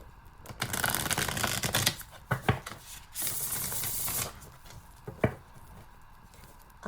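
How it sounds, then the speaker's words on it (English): Tarot cards are shuffled in bursts, with riffling rushes and sharp taps and slaps between them, close and fairly quiet. "I do feel like doing one more shuffle"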